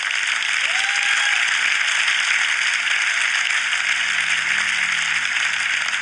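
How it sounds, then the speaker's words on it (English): Audience applause at the 2018 MotoGP awards ceremony, a dense steady wash of many hands clapping, loud and continuous throughout without talk. "So a round of applause for Mr. Espeleta as well"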